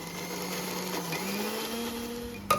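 An electric kitchen blender crushes green chili, cashews and fried onion, a steady high whirring motor drone held throughout, ending with a brief sharp clatter.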